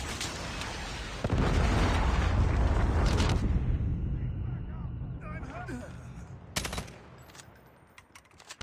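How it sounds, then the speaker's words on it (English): A predator missile strike explodes in the Call of Duty Mobile video game, a loud sustained blast with rumbling debris lasting several seconds, then a fading tail with a sharp burst near the end and game voice callouts around it. "Predator missile inbound."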